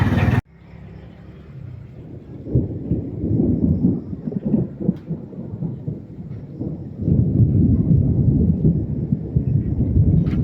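Deep rolling thunder rumbles on and off, loud and sustained, with a steady wash of rain-like noise beneath, at night.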